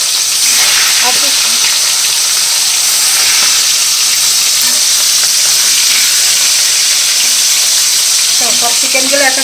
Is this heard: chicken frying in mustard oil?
yes